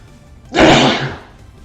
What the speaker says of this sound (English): Got a whole bunch of sneezing action going on.